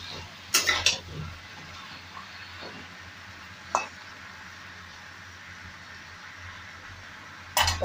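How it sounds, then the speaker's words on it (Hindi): A spoon stirs spicy eggplant and potato sabji in a pan, giving a few sharp, sparse metallic clinks and scrapes against a quiet kitchen background. "देख सकते हैं इसको मैं अच्छी तरह से चलाऊंगी।"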